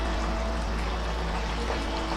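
Warm water is poured into a honey barbecue chicken marinade with golden syrup, a continuous close splashing pour lasting a couple of seconds with no talking.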